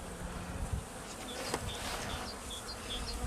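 Honeybees in a weak hive, weakened over winter, buzz during an inspection in a continuous, soft droning hum with faint individual bees passing close, no talking.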